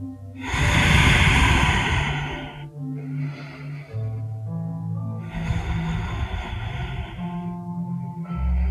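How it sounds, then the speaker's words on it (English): Deep, slow yoga breaths taken through the nose and mouth, two long loud inhale-exhale cycles close up, with no talking. "Deep breaths."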